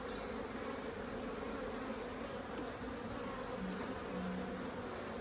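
Honeybees buzz on beehive frames, a steady, faint, continuous hum of many insects with no voices.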